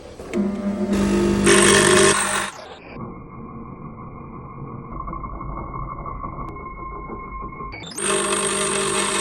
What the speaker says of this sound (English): Just need to grind those wee bits of weld off.